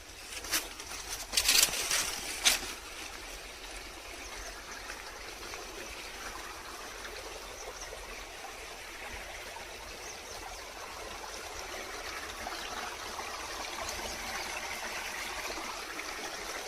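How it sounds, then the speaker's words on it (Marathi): A small gurgling village stream in grassy countryside after heavy rain, a steady soft babble running continuously, moderately near, with a brief brighter splash near the start. "या खळखळ करणाऱ्या छोट्याशा ओढ्याला आम्ही परा म्हणतो."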